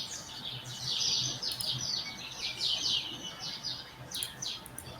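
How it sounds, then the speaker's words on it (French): Many birds chirping and tweeting outdoors at moderate distance, bursts of high calls repeating irregularly over a low background hum, with no talking. "On entend plein d'oiseaux chez vous, c'est très joli."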